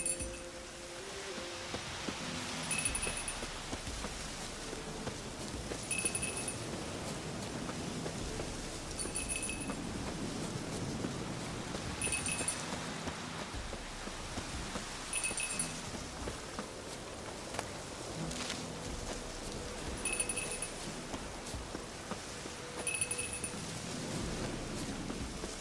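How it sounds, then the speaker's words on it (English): Light rain patters steadily in the game The Witcher 3, soft and even, with faint periodic chiming clinks layered over the downpour. "Looks like rain."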